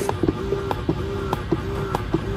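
A small motorized wearable breast pump whirs steadily at a higher level setting with a rhythmic mechanical pulse, a soft click or creak repeating about every half second, close and moderately loud.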